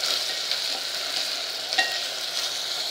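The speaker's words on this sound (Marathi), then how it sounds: "आता आपण हा कांदा छान लाल करून घेऊया" Chopped onion sizzles steadily in a hot pan while being stirred and browned for a field bean curry, with a continuous close hiss and faint scraping, no voices.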